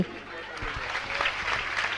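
A crowd at a religious discourse event breaks into applause to welcome the elder sister, a brief burst of clapping that swells after a moment, with a voice heard at the start.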